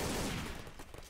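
A dense, loud flurry of gunshots from the video game Codename CURE, rapid overlapping shots filling a brief moment.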